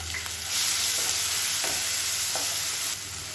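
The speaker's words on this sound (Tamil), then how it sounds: "மீடியம் சைஸாக ஒரு தக்காளி பொடியாக நறுக்கினதை சேர்த்துக்கலாம்." Finely chopped tomato sizzling and frying with softened onions in a pan, a steady hiss with a few stirring scrapes, close and fairly loud, no voices.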